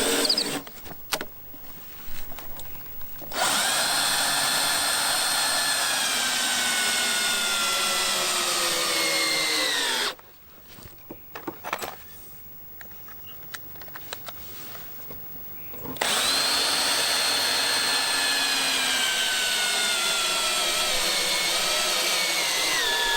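A power tool drives 100mm galvanised batten screws into timber corners in a garden, with two long, steady whining runs whose pitch bends as the motor loads, separated by quieter handling and clicks.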